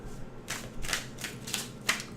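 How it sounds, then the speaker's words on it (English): Tarot cards are shuffled by hand during a reading, a series of close, crisp riffling bursts coming roughly every half second. "Just shuffle and pick a random card."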